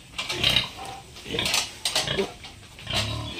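A Duroc boar grunts close by in a farm pen, giving several rough, irregular bursts in quick succession with no talking.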